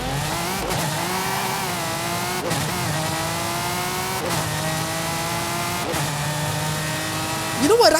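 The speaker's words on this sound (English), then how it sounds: "the Vulcan in this game does not sound bad whatsoever" An Aston Martin Vulcan's engine revs hard in Forza Horizon 5, a loud, raspy, steady roar with pitch sweeping up through repeated gear shifts, brief dips between pulls and a sharp tire-squeal-like rise at the end.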